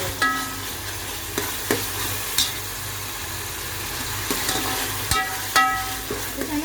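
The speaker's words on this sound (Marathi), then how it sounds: "आता हे आपण परतून घेऊया चांगलं तेल कुठेपर्यंत परतून घ्यायचं" Onion sautéing in hot oil for a Malvani chicken-and-vade meal, a steady close sizzle broken by several sharp scrapes and clacks of a spoon stirring at irregular intervals, with no talking.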